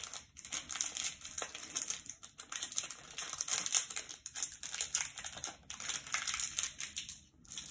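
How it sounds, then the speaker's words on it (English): Tape being pulled and pressed onto a paper ball: faint crinkling and crackling with soft tearing and sticky taps, up close and quiet, with no voices. "just get another piece of tape and tape it down."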